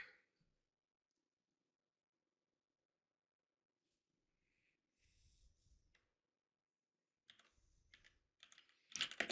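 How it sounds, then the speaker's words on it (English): Computer keyboard typing in bursts, quiet at first and growing to a louder flurry of clicking keys near the end, with soft breathing and no talk. "let's start typing."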